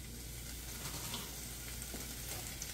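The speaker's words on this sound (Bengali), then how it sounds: "শাকটাকে আমি অল্প ভেজে নেব" Bok choy greens fry in about a tablespoon of oil over medium heat, giving a steady, close, even sizzle with light crackles throughout, alone and without talking.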